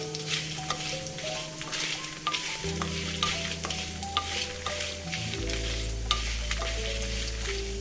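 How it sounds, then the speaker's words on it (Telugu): Coriander seeds and dry red chilies fry in a pan with a steady, close sizzle, broken by sharp scraping and clinking as they are stirred, and no voices are heard. "ఇప్పుడు అవి ధనియాలు వేగిపోయినాయండి"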